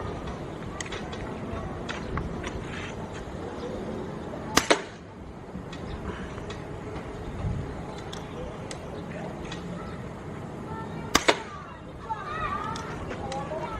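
A Wild Hunter B-Zad Klein air rifle fires two sharp, close shots several seconds apart, each a crisp snap with a quick double transient, amid steady background noise and faint chatter.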